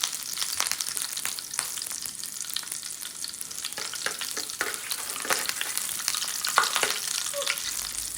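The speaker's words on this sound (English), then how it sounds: "Once the pan is hot, you're going to add your onions and allow the onions fry a bit" Onions sizzle and crackle in hot oil in a pan, a steady close, bright frying hiss with small pops and occasional stirring scrapes, with no voices.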